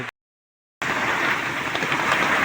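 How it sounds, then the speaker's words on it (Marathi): Heavy April rain pours down in a dense, steady hiss after a brief moment of silence at the start, loud and constant, in a rural village. "फुल जोरात पाऊस आहे भावांनी"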